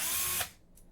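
A Bosch handheld torque gun runs in reverse at full speed with a loud, close, steady high whine that cuts off sharply partway through, leaving a faint spin-down and a small click, while removing idler pulley axles on a 3D printer.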